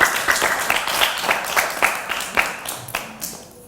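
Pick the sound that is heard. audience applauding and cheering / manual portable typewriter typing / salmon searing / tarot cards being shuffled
audience applauding and cheering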